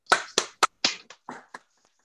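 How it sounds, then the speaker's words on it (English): A few participants clap over an online meeting connection, about six or seven separate claps, sharp and irregular, fading quickly into silence. "I would like everyone to unmute yourself if you can, and let's just give a good round of applause"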